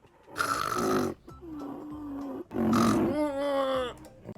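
A human voice imitates a rhino snoring with two long, rough, loud snores, each a breathy rasp ending in a lower, drawn-out groan.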